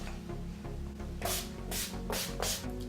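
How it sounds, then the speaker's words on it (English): Urban Decay All Nighter Pollution Protection setting spray misted onto a face, about four short hissing bursts in quick succession, close and fairly loud over a steady low background. "the Urban Decay All Nighter Pollution Protection does wonders, so you're just gonna spray the crap out of your face."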